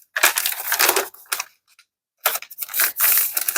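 Paper for a handmade journal is folded and creased in several crisp, crinkling bursts, close and loud, separated by short silent pauses.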